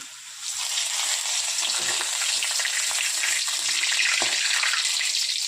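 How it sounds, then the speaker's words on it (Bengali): Papad frying in hot oil in a kadai, a dense, loud, continuous bubbling sizzle that swells in within the first half second and holds steady, close by and without talk. "এই দেখুন তেলটা গরম হয়ে গেছে, পাঁপড়টা ভেজে নিই"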